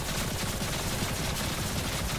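Gunfire aimed at a boss in Remnant: From the Ashes, a continuous dense crackle of rapid shots from several weapons, loud and unbroken through the moment.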